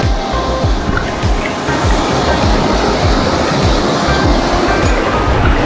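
Water rushes steadily into a stream plunge pool with a loud, continuous churning roar and a dense low rumble, close by and unbroken throughout.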